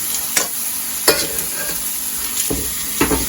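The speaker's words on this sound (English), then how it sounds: "Get the butter moving. Down underneath." Butter fries in a pan with pineapple and cinnamon as it is stirred, a steady bright sizzle broken by several distinct scraping strokes of the spoon, close and fairly loud, with no talking.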